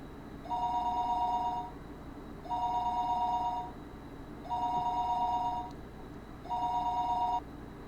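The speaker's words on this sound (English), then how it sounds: "The phone rang for a third time." An old-style telephone bell rings in four evenly spaced bursts, each about a second long with short pauses between, clear and steady at moderate loudness.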